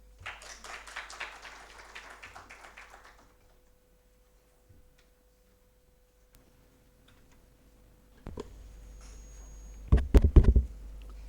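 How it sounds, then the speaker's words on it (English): An audience at a conference inaugural session gives a short round of clapping that dies out after about three seconds, followed by near silence and a few scattered knocks and handling sounds. "Can we please have a round of applause?"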